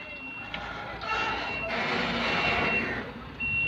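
A single-axle UD GDE330 tractor truck backing up to tip a 29-tonne load of sand sounds a steady series of reversing beeps over a loud diesel engine drone.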